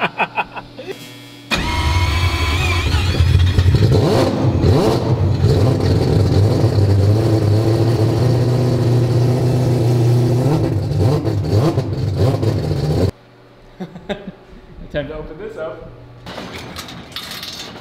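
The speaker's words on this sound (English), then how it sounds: "Well, we got an engine back up and running." A four-rotor rotary engine fires up abruptly and holds a loud, rough, buzzing idle with revving swells, then cuts off, followed by quieter rattles and voices nearby.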